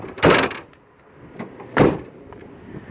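Wheelchair ramp folding up and doors shutting on a 2013 Ford Transit Connect XLT mobility van: two loud, close thumps about a second and a half apart, with small clicks between them and no talk.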